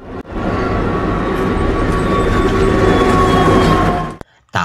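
A runaway train rolls along the rails in a film scene, a loud, steady rumble of wheels and carriages with a faint high squeal running through it, cutting off abruptly near the end.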